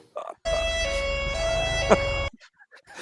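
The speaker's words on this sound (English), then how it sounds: "Oh, we got the European inspired sirens." A European-style two-tone emergency siren sound effect plays loudly for about two seconds as a steady wailing tone, with brief voices before and after it.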